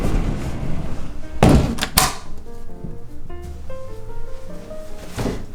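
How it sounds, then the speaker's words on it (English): A flat's interior door is shut and locked, with a sharp slam and a quick metallic latch clatter, followed by scattered small clicks and rattles and a final knock, close by and loud, with no speech. "we lock this door."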